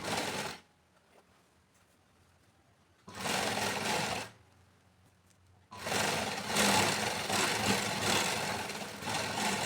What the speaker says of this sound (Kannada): ಈ ಥರ ದೊಡ್ಡ ಹೊಲಿಗೆ ಇಟ್ಕೊಳ್ಳಿ.